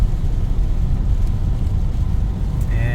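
Inside an SUV rolling on Achilles Desert Hawk HT3 tires at highway speed, a low steady rumble of road and tire noise fills the cabin, with a faint hum near the end.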